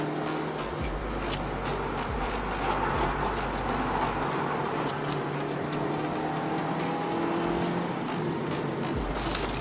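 A Mazda Demio on new studless winter tires accelerates hard in second gear on a mountain road, its engine a steady, close, loud drone with road and tire noise and no talk.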